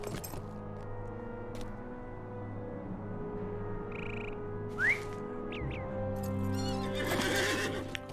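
A mounted horse in Lord of the Rings Online gives a rising neigh partway through, over steady hoof clip-clops and a quiet ambient bed with scattered chirps and whistles, heard at moderate distance without voices.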